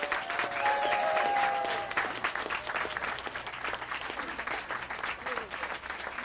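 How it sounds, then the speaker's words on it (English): Audience applause at an event on preserving Civil War forts, honoring a student from the Tacoma Education Campus. Steady clapping continues for several seconds, strongest early and tapering slightly. "Let's give Nanny another round of applause."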